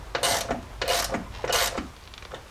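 A wrench tightens Jeep rear bump stop bolts fitted with washers, giving three rasping, ratcheting strokes in an even rhythm, close and fairly quiet with no talk.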